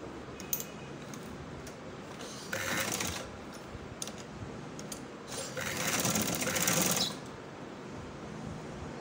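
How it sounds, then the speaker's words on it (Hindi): Domestic sewing machine stitching a folded hem along the corner of a hijab chadar, running in two bursts of steady whirring, the longer one near the end, against a quiet room background. "अब जो है ये नुक्कर से हम इसकी सिलाई शुरू करेंगे।"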